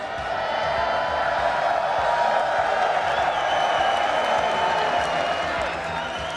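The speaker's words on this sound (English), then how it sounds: "Let's give a round of applause for G2IG." Crowd at a Dota esports match cheering and applauding, a dense, steady wash of clapping and shouts sustained throughout at fairly high level, with a voice over the top.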